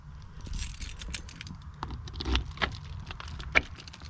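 A Kwikset door lock on a 2002 MCI bus conversion is locked with a couple of sharp metallic clicks and a faint jangle of keys, close by, over low steady background rumble.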